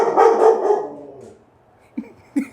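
A dog barks loudly in a long, harsh burst, followed after a pause by a couple of short, sharp yips.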